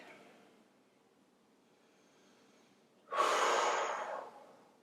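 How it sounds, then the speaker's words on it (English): One deep exhale during a yoga stretch for the lower back and shoulders comes as a long, breathy whoosh, close and fairly loud, following a soft quiet inhale, with no talking. "Breathe."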